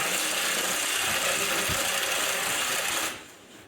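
A ratchet undoes 10 millimetre bolts on the front bumper of a Mazda CX-9, built 2016 to 2024. The clicking is dense and steady and sits under loud, constant broadband noise, which drops away near the end.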